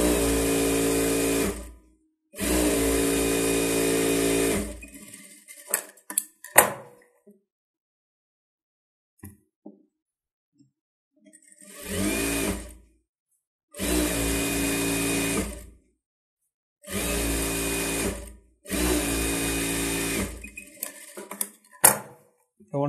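A sewing machine stitches a close-neck blouse in loud, even whirring runs of a couple of seconds each, separated by quiet pauses with faint handling clicks.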